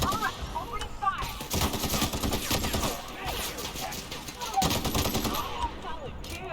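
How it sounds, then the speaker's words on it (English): Sustained automatic gunfire in the video game The Outer Worlds: dense, rapid bursts of shots with overlapping game effects, continuous and loud for several seconds. "All right, opening fire."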